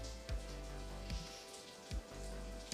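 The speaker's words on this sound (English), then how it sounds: "I'm gonna leave these off for a second and just listen to the rain." Heavy rain falls outside in a steady, dense hiss with faint patters, soft and continuous with no voices.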